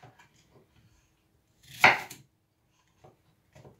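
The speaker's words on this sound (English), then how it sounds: "Just cut them up as fine as possible so that they're easy on the blender." A knife chops apples, carrots and ginger on a cutting board, one louder central chop among faint scattered taps, quiet and close with no talking.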